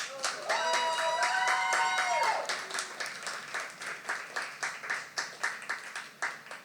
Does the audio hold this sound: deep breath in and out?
no